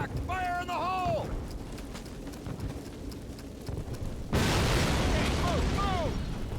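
A sudden loud blast destroying a flak panzer with planted explosives in Call of Duty (2003), set in Normandy, hits midway and leaves a dense roar of battle noise, with whistling tones and shouting voices before and after.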